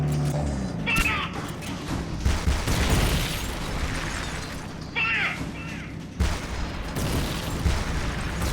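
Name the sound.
gunfire in video game Metal Gear Peace Walker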